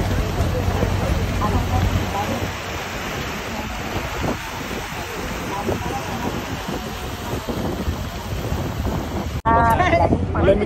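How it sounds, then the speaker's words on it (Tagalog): Cold wind blows outdoors on Nami Island, making a steady broadband rush and buffeting across the whole stretch. Voices are faintly audible beneath it, and it ends with a brief louder burst. "Lamig ng hangin"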